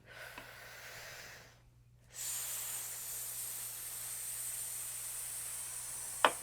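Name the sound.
deep inhale and slow exhale on an S sound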